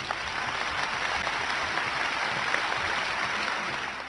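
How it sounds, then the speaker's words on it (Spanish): Steady applause from a group, a dense continuous patter of clapping that holds at an even level for several seconds without talk. "¡Un aplauso!"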